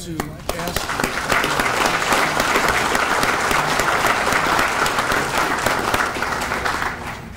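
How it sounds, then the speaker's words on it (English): Sustained round of applause from a large audience at an American Legion gathering, dense steady clapping that rises quickly and holds at full strength throughout, then begins to taper at the very end. "I want to ask you if you would just give yourselves a round of applause"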